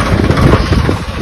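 A motorcycle engine idles loud and close, a rough steady chugging rumble with a pulsing low throb, as the bike prepares to carry a mother to the village.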